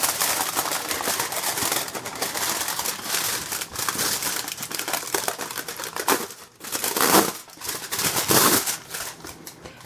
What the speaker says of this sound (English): I'm going to take my aluminum foil